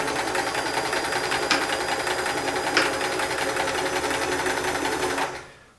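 An all-metal Sears Kenmore 158 series free arm sewing machine runs at a long stitch length, giving a steady, loud, rapid mechanical hum with a couple of faint clicks before it winds down at the end.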